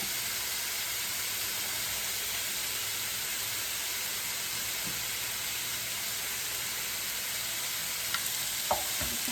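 Tomatoes and onions sizzle in a hot pan, a steady broad hiss that holds evenly throughout, close by, with a few faint utensil taps near the end.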